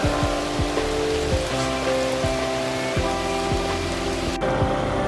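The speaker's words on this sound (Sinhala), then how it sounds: "පොඩ්ඩක් වැස්සට අහුණා" Rain falling steadily near Kandalama tank on the way to Dambulla, a dense continuous patter with no talking, while low tonal hums and periodic knocking sounds run through it.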